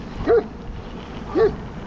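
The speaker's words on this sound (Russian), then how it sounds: "О, собаки тут, конечно, надо быть очень аккуратным." Two dogs bark by a roadside, heard from an electric bicycle towing a trailer on a country road; two short, separated barks a second apart, fairly close, over steady road and wind noise.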